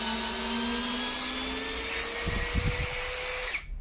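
A compact SfunPro 16V cordless drill driver whirs at a steady high-pitched whine, close and loud, with a slight strain midway before the motor stops abruptly near the end.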